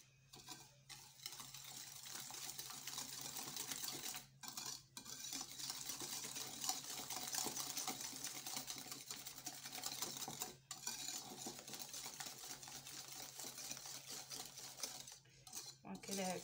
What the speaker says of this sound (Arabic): وغادي نحركوا هاد المكونات